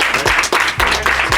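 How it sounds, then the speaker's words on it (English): A short round of applause breaks out for a player voted out in an elimination game show, a small group clapping briskly in uneven bursts over a low rhythmic thump. "round of applause for Maddie"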